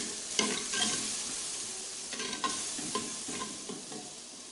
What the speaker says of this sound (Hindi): हरी मिर्च जो हमने काट के रखी थी ये भी डालेंगे, और इसको अच्छी तरीके से भूनेंगे